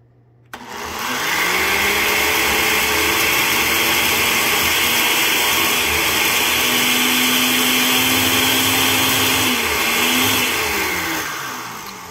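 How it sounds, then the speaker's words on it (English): A blender powered through a Ryobi One+ 800W power inverter starts abruptly and then runs loud and steady with a whining motor hum. Near the end it tapers off slightly. "we're gonna try the blender with this thing."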